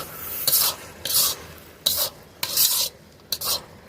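Carrot halwa with milk, cashews and raisins being stirred in a pan, giving repeated scraping strokes in short irregular bursts with a faint sizzle between them, close and fairly loud, with no voices.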